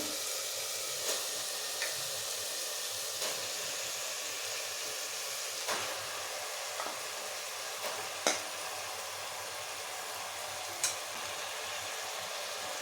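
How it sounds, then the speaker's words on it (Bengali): Mutton pieces and spice masala stir-fried in a pan for kosha, a steady close sizzle and hiss with occasional sharp scrapes and clicks of the spoon against the pan, no talking. "আর মটনটাও খুব ভালো করে কষিয়ে নেব।"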